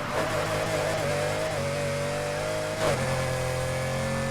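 A fast car's engine revs hard while accelerating in the racing game Need for Speed Heat, a loud, steady droning tone that shifts pitch briefly as it climbs, close and with no talking.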